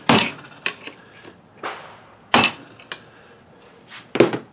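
A hammer whacks the VCT solenoids during a water pump replacement, giving a handful of sharp metallic knocks at irregular intervals, some loud and close, others lighter, with quiet gaps between.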